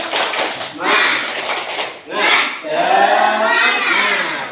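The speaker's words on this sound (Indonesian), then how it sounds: "Tepuk semangat." A classroom of students performs the tepuk semangat clapping chant, rhythmic bursts of claps and voices in a few rounds, close and lively, followed by a chanted group response.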